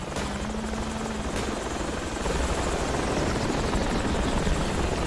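A helicopter in the military shooter game Project Reality runs close and loud with a steady rotor chop and engine drone that swells slightly halfway through, with no voices.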